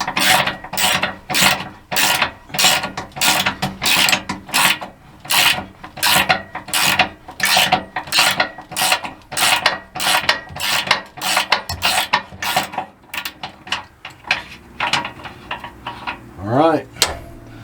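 A hand ratchet works bolts loose on failed 5th wheel landing gear, a long run of steady, rhythmic clicking strokes up close that slows and thins toward the end, with a brief whirring rise just before it stops.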